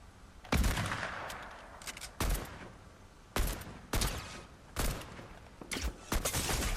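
Gunfire from an enemy in the video game Fortnite crackles in repeated sharp bursts, about half a dozen volleys spaced a second or so apart, loud and punchy.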